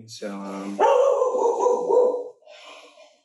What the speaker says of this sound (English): that's my dog in the background barking